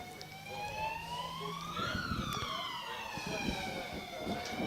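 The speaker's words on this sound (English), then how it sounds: "Another ambulance going past you." An ambulance siren wails past in rising and falling sweeps, fairly close and clear over road traffic, with faint voices in the background.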